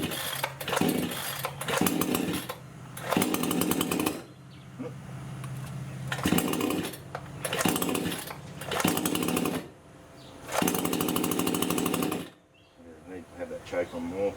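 A Giantz 62cc chainsaw engine buzzes in repeated close, loud revving bursts of a second or two, separated by brief drops in level, with voices talking in the gaps.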